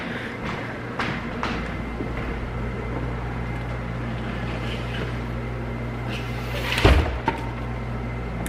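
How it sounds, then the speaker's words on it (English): A classroom door is shut once near the end, a single sharp thud standing out from a steady low room hum. "I'm gonna shut the door real quick."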